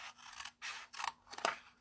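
Scissors cut through paper while making a paper treat chest, four separate close snipping strokes with crisp rasping blade sounds and short pauses between, quiet and alone.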